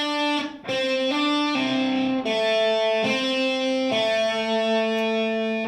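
A distorted electric guitar plays a quick run of sustained hammer-ons and pull-offs, each new note sliding in smoothly without a fresh pick attack, loud and close.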